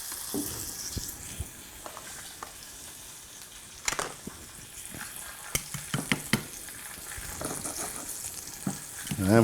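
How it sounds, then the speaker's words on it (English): Lamb chops sear in a hot pan with a steady broadband sizzle, punctuated by sharp clinks and scrapes of utensils against the pan throughout. "We'll listen for that nice sear"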